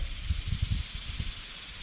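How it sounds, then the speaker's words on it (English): Rain falls steadily on trees in the woods during a bicycle ride between Gainesville and Bolivar, heard as a constant, even hiss with soft low rustles underneath and no voices. "See if we can get some footage of the rain while we're"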